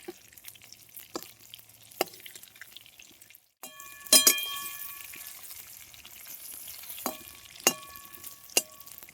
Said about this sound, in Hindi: तो इसी तरीके से इसे अलट पलट के बढ़िया से हम चारों तरफ से सेक लेंगे।